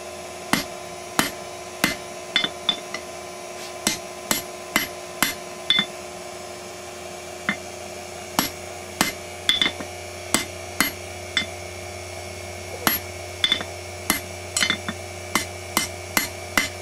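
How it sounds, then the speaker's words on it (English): A hammer strikes a rebar paring knife blank on the edge of an anvil, sharp ringing metallic blows in irregular clusters, some spaced out and some in quick succession, loud and close with no talking. "I'm going to take my hammer, I'm going to give it a good sharp hit"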